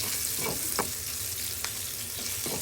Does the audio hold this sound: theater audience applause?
no